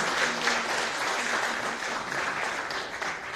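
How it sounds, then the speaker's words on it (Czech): An audience at the national final of a business competition claps together, a sustained even wash of applause with no talk over it. "pojďme si zatleskat"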